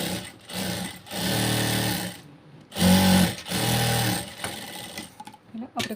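A sewing machine stitches blouse fabric in several short, loud runs of rapid whirring, separated by brief pauses and a few small handling clicks.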